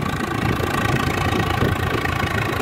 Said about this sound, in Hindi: अब इसी चीज को हम देख रहे हैं कि चढ़ाई पे ट्रैक्टर क्या काम करता है वो